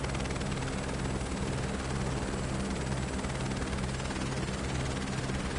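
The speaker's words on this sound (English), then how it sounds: "Helicopter, take you to Monaco." Helicopter flying in Microsoft Flight Simulator 2024 makes a constant loud, dense rotor and engine drone with a low steady throb, unbroken and with no voices.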